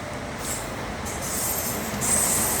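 A train passes close by, a continuous broad rumbling roar with rail noise that swells slightly louder toward the end, heard alone.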